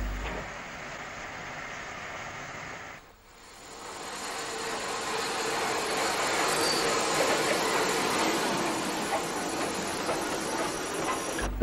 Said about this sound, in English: 6851, Hurst Grange, with a train from Reading, comes to a halt in Basingstoke Station.